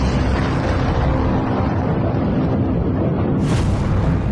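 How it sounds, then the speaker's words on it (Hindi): A loud, rumbling nuclear bomb blast roars continuously, followed by a sharp burst near the end, heavy and close. "बम फटा, जोर का धमाका हुआ।"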